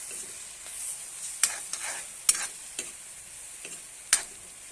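Two eggs sizzle in a pan with tomato for an egg and tomato bhujia, giving a steady close hiss broken by a few sharp spatula scrapes and clicks.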